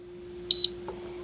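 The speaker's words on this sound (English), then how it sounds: "So let's hold this in place till it beeps." A portable biometric handgun safe gives a single short, sharp electronic beep up close while a fingerprint is being programmed.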